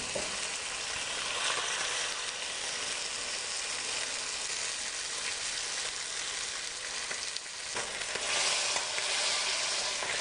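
Salmon fillets sear skin-side down in a hot pan, giving a steady, loud sizzle that holds evenly for about ten seconds, with a brief dip near the end before it swells back.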